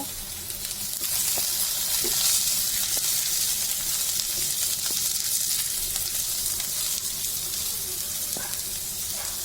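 Whole cloves, a piece of cinnamon and two cardamom pods sizzle in hot oil while being stirred, a close, steady crackling hiss broken by small scraping clicks of the spoon.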